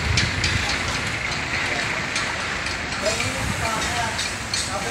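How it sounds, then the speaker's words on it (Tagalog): Light rain drizzles onto a wet walkway at a church entrance, a steady close hiss of patter that runs throughout. "kahit ngayon pumapatak-patak pa rin ang ulan"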